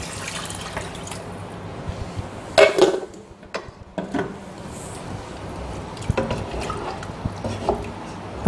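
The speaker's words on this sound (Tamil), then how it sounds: "கலந்த உடனே கொஞ்சம் நம்ம தண்ணி சேர்த்துக்கலாம்." Water poured into a pan of masala for bitter gourd sambar, giving a short splashing burst followed by scattered liquid drips and light pan clatter, close up with no talk.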